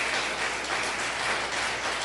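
Church congregation applauding in a steady, dense patter of many hands, moderately distant and continuous for a couple of seconds with no voices over it.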